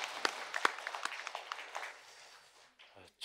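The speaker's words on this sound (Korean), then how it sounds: "찬양의 박수를 하나님께 드리겠습니다." A church congregation in Daegu claps in praise to God during a Sunday worship service, a soft, scattered patter of hands with a few sharper claps standing out, fading toward the end.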